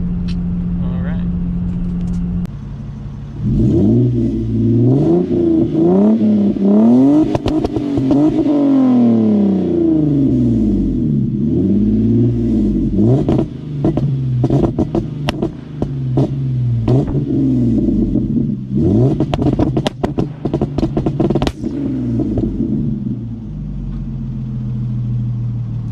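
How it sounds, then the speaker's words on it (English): A Lexus GS300 with a straight-pipe exhaust is revved hard again and again, its loud rising and falling engine note broken by sharp pops and bangs, with a voice heard briefly between the revs. "So I don't want to be doing all the pops and bangs right next to somebody's house."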